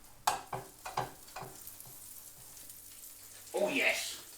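Butter goes into two frying pans for an egg, ham and cheese toastie, with soft scrapes and taps followed by a gentle rising sizzle near the end, quiet and close.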